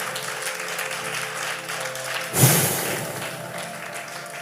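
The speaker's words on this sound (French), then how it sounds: "Acclamez le Seigneur puissamment pour elle." A church congregation bursts into applause for Jesus, a sudden loud swell of clapping and cheers breaking over steady background noise midway, then settling into a sustained roar.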